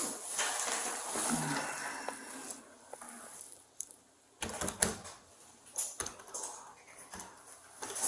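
Irregular bursts of clicking keystrokes, with short pauses between flurries, fairly close and moderately loud over a faint background.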